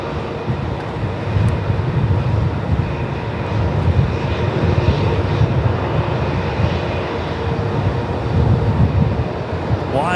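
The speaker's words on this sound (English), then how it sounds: "Just a 68 Melbourne takeoff." A jet airliner roars steadily through its takeoff from Melbourne Airport, a broad continuous engine rumble heard from nearby that holds loud and even throughout.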